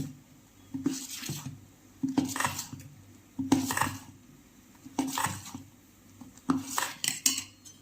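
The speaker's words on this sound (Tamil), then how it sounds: "மூணு கரண்டி ஊற்றிருக்கேன்" A ladle scoops thick chicken curry from a pot and pours it out, giving soft metallic clinks, scrapes and wet plops in a slow, repeating rhythm, close and fairly quiet.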